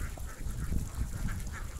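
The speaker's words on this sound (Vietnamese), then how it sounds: "Ồ vịt quá trời các bạn." Ducks on a traditional countryside duck farm in rural Vietnam quack in a dense, continuous flock chorus, with several nasal calls overlapping against a rumbling outdoor background.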